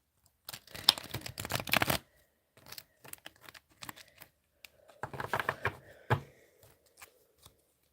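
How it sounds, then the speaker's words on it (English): Tarot cards are shuffled by hand in two riffling bursts with crisp flicks and taps in between, close and fairly quiet, with no talk. "Right, one more shuffle."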